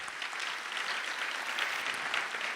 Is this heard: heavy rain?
no